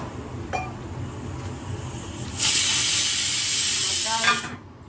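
A pressure cooker whistle shrieks loudly for about two seconds as steam vents, following a faint low kitchen rumble, then cuts off abruptly.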